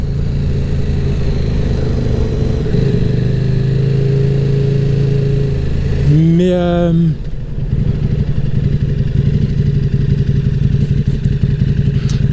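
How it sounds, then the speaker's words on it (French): A KTM 1190 RC8 R motorcycle engine runs loudly nearby, then revs up sharply in a quick rising burst as it pulls away hard from a start, before settling into a steady drone. "j'accélère peut-être un peu fort pour démarrer, tellement j'ai peur de caler"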